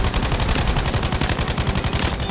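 Rapid automatic gunfire in Battlefield 5, a loud, dense stream of shots firing without pause, close up and on its own, with no voices.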